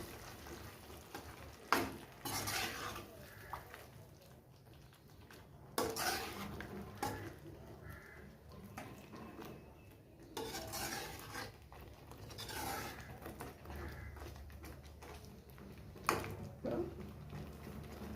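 Spices such as garam masala and cumin powder are stirred into tomato gravy in a cooking pot, giving intermittent scraping and clinking of a metal spoon against the pot in short bursts over quiet background.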